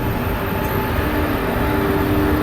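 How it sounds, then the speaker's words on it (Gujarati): A train rolling through a railway station gives a loud, continuous rumble with a faint high whine, with no pauses and no voices. "અહીંયા તો કેટલી ટ્રેનો છે ભાઈ"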